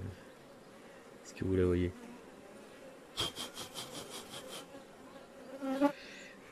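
Bees buzz around a hive at close range, a low drone rising and falling under a woman's speech, with scraping and rubbing sounds in between.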